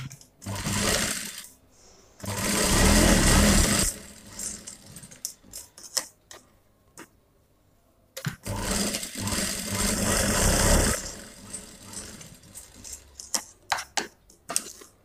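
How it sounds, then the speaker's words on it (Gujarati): A sewing machine stitches along both sides of a homemade cloth face mask in two loud whirring runs, each a few seconds long, separated by quiet gaps with clicks and handling noises in between. "તો સૌથી પહેલાં આપણે આજે છે તે બંને બાજુ સિલાઈ લગાડી લઈએ."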